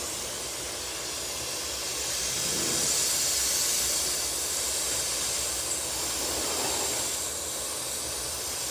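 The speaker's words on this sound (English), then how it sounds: "I'm gonna put the gun in kind of airbrush mode" Paint spray gun set to a fine airbrush-style spray laying black paint on a lowrider pattern: a steady, loud, close hiss of air and atomized paint, swelling slightly mid-way and running on without talk.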